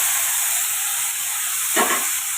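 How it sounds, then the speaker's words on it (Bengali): Marinated chicken tipped into hot oil with garam masala, a steady loud hiss of frying with a brief surge of sizzle as the pieces land, close up and with no talking. "এবার কিন্তু ম্যারিনেট করা চিকেনটা আমি এর মধ্যে"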